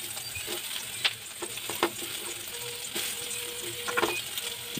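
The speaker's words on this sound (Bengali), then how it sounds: "দেখো কড়াটা অনেকটাই তেল আছে, এর মধ্যে আমি প্রথমে সয়াবিনটা দিয়ে ভেজে নেবো।" Soybean chunks fry in plenty of oil in a wok over a low flame, giving a steady soft sizzle broken by occasional sharp clicks and scrapes of stirring.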